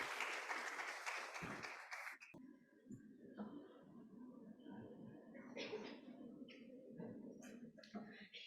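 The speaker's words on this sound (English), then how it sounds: "please give a huge round of applause" Audience applauding at the closing ceremony of a university international chair program, a dense burst of clapping for about two seconds before it cuts away to a quieter room with faint scattered sounds.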